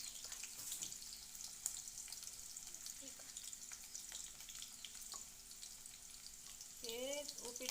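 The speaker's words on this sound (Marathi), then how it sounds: "हे उपीटाला फोडणी दिलेली आहे." Chopped onion, tomato and curry leaves sizzle in hot oil as a tempering for upma, a continuous soft crackle with occasional stirring, and a voice briefly joins near the end.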